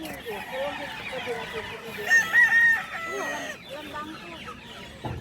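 Chickens cluck in a busy barnyard in Mexico, Pampanga, Philippines, while a rooster crows loudly in the middle, with voices murmuring faintly underneath.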